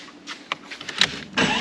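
Aging, long-unoiled portable air compressor running inside a Jeep Cherokee to fill its tank, heard as an irregular mechanical whirring with intermittent bursts that grows louder and steadier at the end.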